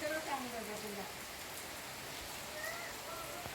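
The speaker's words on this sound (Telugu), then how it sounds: "ఒక సైడ్ అయితే వర్షం పడుతూ ఉందన్నమాట" Rain falls outdoors beside an outdoor cooking spot as prawn curry is prepared, a faint, steady patter and hiss that continues throughout, with a distant voice briefly audible beneath it.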